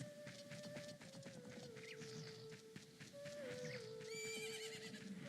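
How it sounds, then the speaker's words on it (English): Horse neighing in Legend of Zelda: Ocarina of Time, a loud whinnying call over steady game background music, with a second rising whinny near the end and no talk. "Now we're going to make our way over here where the horses are."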